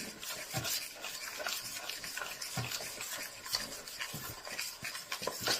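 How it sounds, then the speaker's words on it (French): Batter for a yogurt cake stirred in a bowl, a soft steady scraping and swishing close by, alone without talk. "Donc je passe un petit coup pour remuer."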